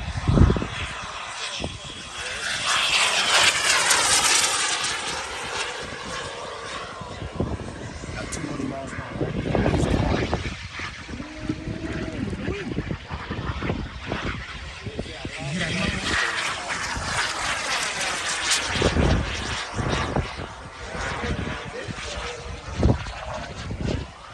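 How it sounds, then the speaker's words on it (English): A BDX Aero Sport model jet flies past at about 200 mph, its turbine roaring loudly and rising and falling as it sweeps by, with people talking over it. "a 200 miles per hour jet. Here it comes"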